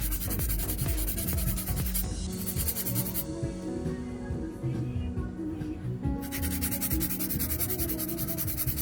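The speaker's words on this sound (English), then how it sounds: "I'm beveling the C-curves so that way the sidewalls are nice and even." Gel nail C-curves being filed and beveled to even out the sidewalls, a steady close-up abrasive rubbing and scraping that runs continuously with slight pauses in intensity.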